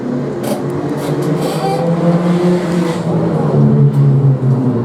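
Several race cars run three-wide in a claimer-class battle for position, their engines blending into one loud, sustained roar that swells slightly toward the end.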